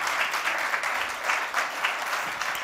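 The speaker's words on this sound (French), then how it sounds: "Je vous suppose d'applaudir Michel Mayor." Audience applause at an awards gala honouring Michel Mayor, a dense, steady clapping from a large crowd that holds evenly for nearly three seconds with small swells.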